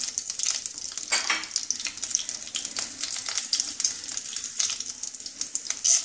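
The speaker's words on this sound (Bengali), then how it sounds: "তেজপাতা, একটু নেড়ে নিতে হবে, একটু ভাজা হয়ে গেলে আরো সব মশলাগুলো দেব।" Bay leaves with whole garam masala fry in hot oil while being stirred, giving a close, steady crackling sizzle broken by brief stirring scrapes, with no talking.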